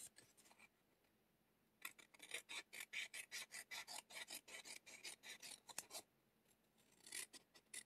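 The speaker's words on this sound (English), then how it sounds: "Cut the excess off." Scissors snip steadily through excess paper from a December 2023 Paper Pumpkin card kit, a quick run of close, crisp rasping cuts broken by short pauses.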